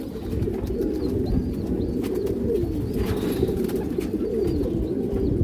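A large male pigeon coos on its own in a steady series of low, throaty warbling calls, close and clear over a constant background hum.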